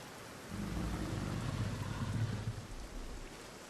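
Storm weather in the dinosaur park management game Jurassic World Evolution 2: a steady wash of rain with a low thunderous rumble, swelling in after a brief quiet start and fading slightly toward the end.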